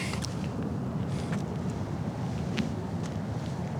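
Steady wind gusting across an outdoor disc golf course, a constant rumbling buffet on the microphone with a few faint clicks and no talk.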